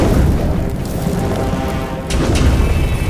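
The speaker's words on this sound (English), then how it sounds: "Oh man, fire!" A burst of fire erupts in an animated scene: a loud, sustained whooshing roar with a boom-like body that dips briefly near the end and then flares up again.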